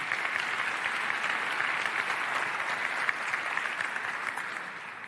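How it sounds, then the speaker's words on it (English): Audience applause at a DPW Amsterdam 2025 conference session in a full room, dense steady clapping that holds loud throughout and eases slightly toward the end, with no voices over it. "Yeah, a big applause for you."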